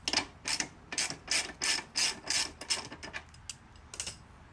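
A ratchet wrench with a 22 mm socket loosening a nut on a 1980 Honda CM400T motorcycle, a quick run of close, crisp clicking bursts in a steady rhythm that thins and slows toward the end, with no talk.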